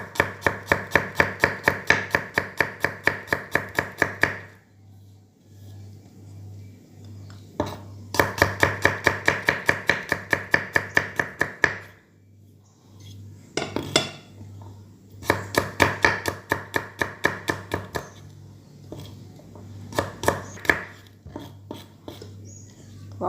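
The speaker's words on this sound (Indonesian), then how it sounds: "Kita sekarang potong bawang putih." A knife chops garlic on a cutting board in fast, even runs of sharp taps, broken by short pauses, while a low steady hum continues underneath.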